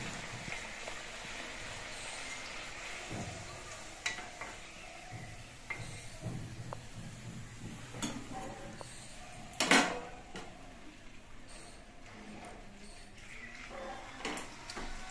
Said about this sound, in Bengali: একা একা আমি সবগুলো কচুরি একইভাবে আমি ভেজে নিচ্ছি।